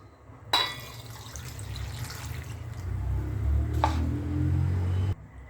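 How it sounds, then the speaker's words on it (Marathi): Water poured into a cup for cooking khichdi, a steady close splashing stream lasting several seconds and then stopping abruptly, with no talk. "हे बघा, आपण एक कप भरायच्यामध्ये पाणी टाकत आहोत."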